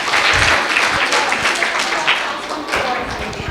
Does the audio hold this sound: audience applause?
yes